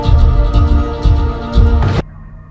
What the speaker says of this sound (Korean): 그런 그에게 걸려온 신문사의 전화.